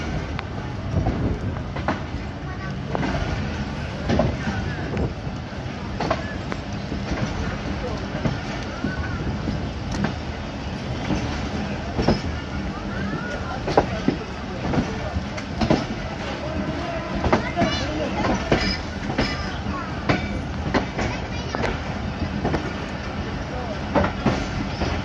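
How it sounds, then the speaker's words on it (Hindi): The Pakistan Express pulls out of Gujar Khan railway station, with steady rhythmic wheel clatter on the rails and a low rumble of wind and carriage noise running throughout. "हमारी भी ट्रेन चल पड़ी है गुजर खान रेलवे स्टेशन से।"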